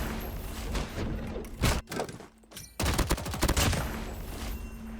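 Rapid bursts of submachine gun fire in a first-person shooter video game, dense crackling volleys with a brief pause midway, moderately loud and without speech.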